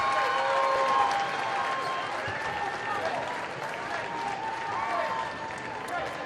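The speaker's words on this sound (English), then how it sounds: "He gets a standing ovation from the crowd." A basketball crowd at a boys' high school game, Fairfield vs Bishop Luers, gives a standing ovation: sustained, dense applause and crowd noise fill the whole stretch at an even level, with indistinct voices mixed in.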